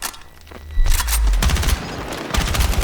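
Gunfire from the video game Battlefield 6: bursts of rapid automatic shots with heavy booming low-end impacts, loud and dense, pausing briefly before another volley, no voices.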